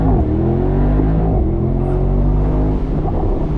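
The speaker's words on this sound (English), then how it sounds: "You just smash the brake pedal, smash the gas pedal, let go of the brake." A Mercedes SL63 AMG launches hard from a standstill under launch control, its engine roaring loud and close with a deep, rising drone that climbs steadily in pitch as the car pulls away.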